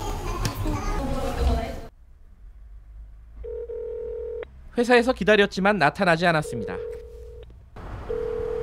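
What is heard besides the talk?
telephone dialing tones while trying to call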